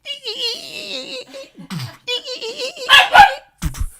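A dog barks in a home, sharp yips and barks in short bursts, close and loud, with a voice speaking and laughing between them.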